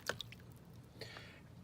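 A Life Gear flashlight lantern drops into a bucket of water, making a small, close splash and plop followed by faint drips and a second soft sloshing splash, all quiet and without voices.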